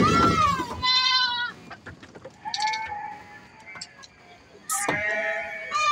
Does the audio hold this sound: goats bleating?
yes